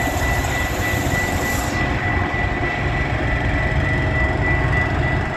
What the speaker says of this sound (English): It's about six engines inbound.